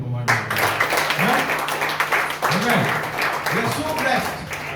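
A church congregation at a Sunday service applauding, producing a continuous wash of many hands clapping at moderate distance, sustained throughout with a voice speaking over it.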